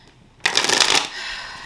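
Tarot cards being shuffled, a sudden dense riffling burst that runs for about half a second and then fades into a softer rustle, close up with no talk.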